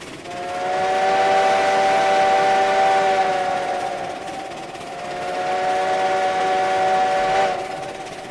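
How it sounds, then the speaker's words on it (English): Steam whistle of a Heisler locomotive in the video game RailRoads Online, one long sustained harmonic blast that dips slightly mid-way then swells again before cutting off, loud and alone with no talk. "Probably going to be blowing way too much Heisler whistle through the valleys"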